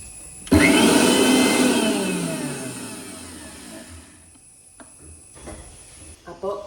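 A kitchen mixer grinder whirs loudly as it grinds green chilli and cumin, starting abruptly, then winding down over a few seconds, with brief clatters and a short restart near the end.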